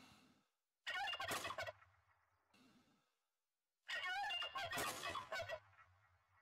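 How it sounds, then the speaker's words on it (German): A Rio Grande turkey gobbles twice in a Mexico hunting area of theHunter: Call of the Wild, each a loud, rapid, warbling burst close by, separated by a few seconds of quiet. "Der Rio Grande Truthahn gubbelte hier auf einmal rum."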